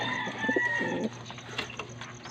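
Pigeons coo in a few soft, rolling bursts close by during feeding on a lot, with faint bird calls and background clatter between them.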